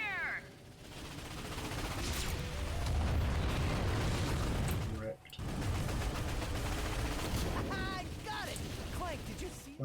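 Warships blowing up in a space battle in the video game Ratchet and Clank, with a dense, continuous roar of blasts and gunfire, a brief drop midway, and people talking over it near the end.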